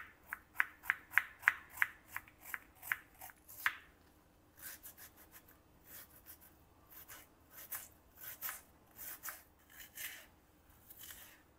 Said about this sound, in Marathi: अशा प्रकारे मी सगळा कांदा जो आहे एकदम बारीक चिरून घेतला आहे